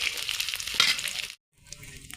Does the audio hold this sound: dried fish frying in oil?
yes